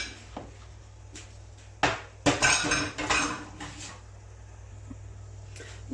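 A metal lid clatters onto a pan cooking zaalouk, an eggplant dish, with a couple of sharp clanks and a brief rattle as it settles, close and loud against a quiet kitchen.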